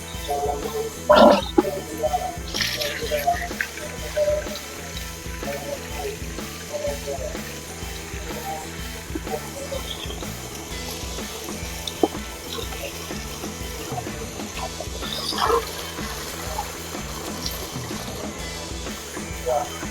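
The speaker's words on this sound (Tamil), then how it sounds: "இப்படி வச்சோம்னா தண்ணி ஓட ஆரம்பிச்சிடும்" Running water gurgles and splashes steadily throughout in a farm irrigation channel, a continuous close flow with occasional louder bursts.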